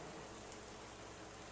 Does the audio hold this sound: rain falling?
yes